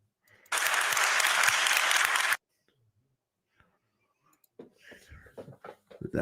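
An audience claps together at a free-speech debate in one dense, loud burst of roughly two seconds that stops abruptly. Silence follows, then scattered speech-like sounds.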